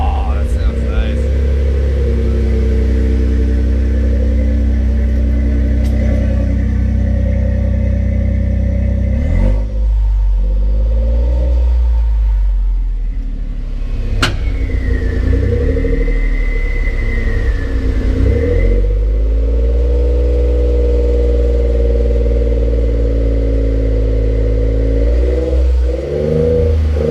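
A truck fitted with a budget exhaust upgrade revs repeatedly, its deep rumbling exhaust swelling and dropping through several throttle blips, loud and close, with people talking over it.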